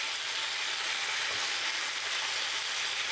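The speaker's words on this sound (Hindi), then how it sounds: "गैस का फ्लेम मीडियम करके ढक के फ्राई करेंगे 3 से 4 मिनट के लिए" Potatoes and pointed gourd fry under a lid in a pan, a dense, even hiss of sizzling oil that holds steady throughout, with no voices.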